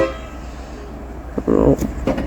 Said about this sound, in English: Took a little toots there to sound off departing.